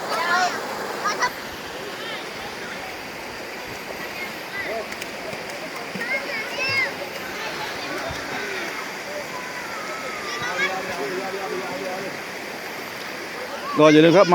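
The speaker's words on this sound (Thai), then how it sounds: "ท่องเที่ยวได้นะครับที่น้ำตกโตนลาดนะครับที่นาทวีอำเภอนาทวีนะครับ" Ton Lad waterfall in Khao Nam Khang National Park, Na Thawi, Songkhla, Thailand: a steady, close rush of falling water running throughout, with someone talking over it.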